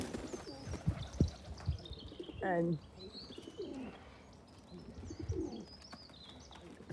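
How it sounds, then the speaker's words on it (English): Pigeons coo outdoors, a short rolling call standing out among softer bird chirps and scattered street noise while someone talks nearby. "The best pigeons will stay with you."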